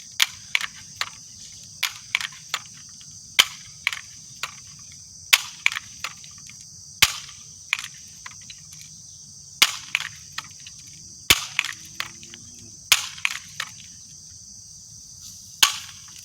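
Air gun shots fire one after another in a brisk, irregular series, each a sharp, loud crack with a short decay over a steady high insect-like whine and faint low hum.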